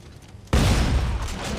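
A single gunshot in the Dead Space 3 video game bursts in suddenly after a quiet moment, a loud, broad blast that trails into a lingering rumble.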